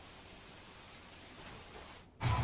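Rain falling over a flooded road in Ahmedabad's Kotarpur area, a faint steady hiss that swells into a louder burst of noise at the end.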